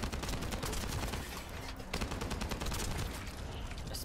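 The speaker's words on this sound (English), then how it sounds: "Explosions?" Combat in the video game The First Descendant: rapid bursts of automatic gunfire and crackling shots with blasts mixed in, dense and continuous throughout, with no voice over it.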